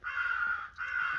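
Crows caw loudly and close during a crow hunt in New York, two long harsh calls separated by a brief gap, with no talk.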